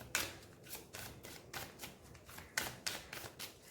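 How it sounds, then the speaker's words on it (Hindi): Tarot cards are shuffled and pulled from the deck in a series of quick, close papery riffles and slaps, repeating in short bursts without speech. "और भी मैं कार्ड्स पुल आउट करूँगी आप लोगों के लिए"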